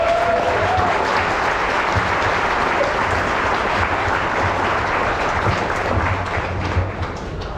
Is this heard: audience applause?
yes